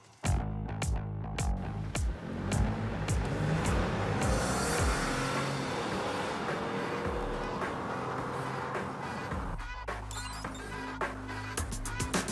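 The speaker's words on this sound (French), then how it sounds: "Le moteur est bruyant, mais pas outrageusement bruyant, du moins que ce à quoi je m'attendais." A small, inexpensive car's engine runs steadily and fairly loud with little vibration, its hum and roar continuous throughout with some shifting tone, as if heard from inside while driving.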